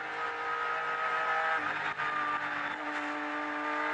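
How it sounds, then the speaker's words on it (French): Honda NSX race car at the 1994 Le Mans 24 Hours, entered by Kremer Racing: a steady, loud engine roar with a high whine held throughout, no clear pass-by swell. "Et bien voici avec la Honda NSX de Bertrand Gachot"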